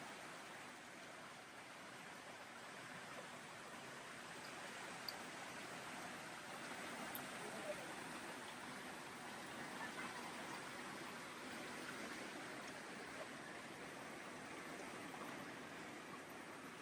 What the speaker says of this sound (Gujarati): પથ્થરોની નીચેથી પાણી આવે છે.